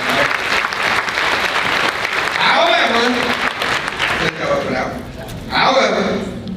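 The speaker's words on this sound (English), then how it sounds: "Let's put it, let's clap our hands." An audience at an education talk claps hands in sustained, loud, dense applause that swells and then tapers, with a speaker's voice carrying over it.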